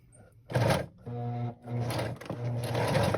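A sewing machine stitches vintage fabric pumpkin pieces, running in short close bursts with a whirring motor hum and rapid needle clatter, pausing briefly between runs.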